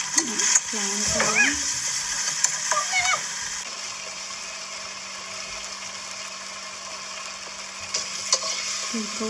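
A wok is being stirred over high heat with fish sauce, oyster sauce, oil and sugar frying in it for stir-fried pickled mustard greens, giving scraping and sizzling close up with a few intermittent louder clinks.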